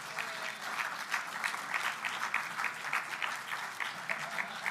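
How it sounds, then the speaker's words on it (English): An audience applauds at the NewSpace 2017 Awards Gala, a steady wash of clapping from many hands that stays even and fairly loud throughout, with no voices over it. "See them applauding? That's applause for you."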